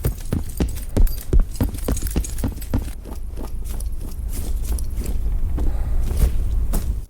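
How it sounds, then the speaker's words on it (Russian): Heavy enemy footsteps from Battlebit Remastered, a run of loud, clunky steps with a jangling, gear-laden rattle, fairly regular and close, first sharp and spaced, then denser over a steady background rumble. "У врагов шаги будут слышны так, будто на них висит тонна экипировки"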